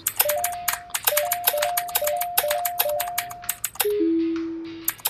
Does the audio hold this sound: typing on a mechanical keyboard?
yes